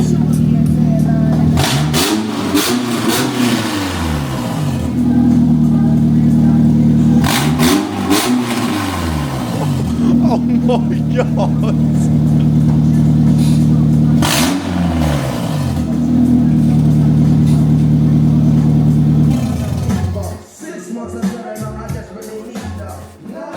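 A high-mileage Honda Civic with the front section of its exhaust dropped roars at close range, revving hard three times in swelling, rising surges over a loud, raspy idle before it cuts off. A man exclaims over the noise.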